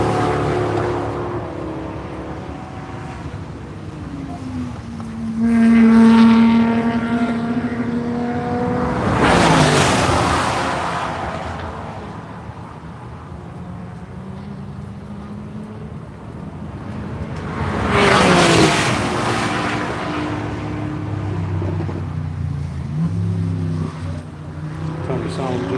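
Race cars pass on the track at VIR during the One Lap of America morning session: engines rise as they approach and fade away, with two loud drive-bys and a rising engine pitch earlier, over a steady background rumble and voices.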